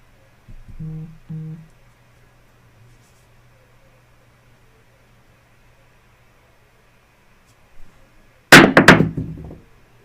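A new set of dice rolled during a practice session, heard as a sudden close burst of clattering and tumbling near the end, following a few soft knocks and long near-silence.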